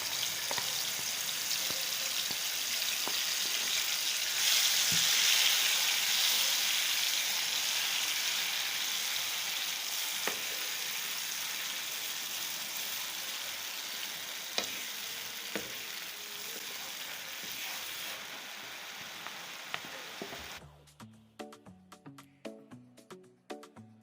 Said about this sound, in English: add some oil into a pan and fry it